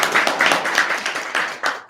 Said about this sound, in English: we're clapping.